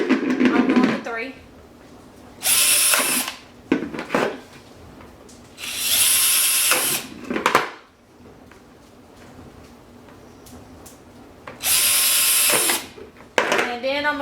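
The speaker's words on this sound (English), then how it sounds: "you just want to make sure that you drill the holes or make the holes or whatever" A power drill bores drainage holes through a plastic planter in three loud, whining bursts of a second or two each, separated by quieter pauses, close up.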